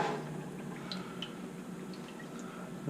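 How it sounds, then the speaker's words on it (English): Cooking oil poured into a frying pan to fill it deep enough for fries: a soft, steady liquid stream close by, quiet and unbroken for the whole stretch, with no talking. "So I'm going to pour in some oil."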